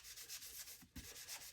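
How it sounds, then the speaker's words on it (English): A sponge scrubs a steel knife blade with rhythmic back-and-forth rubbing strokes, close and quiet, broken once by a short pause. "Use the other side of the sponge."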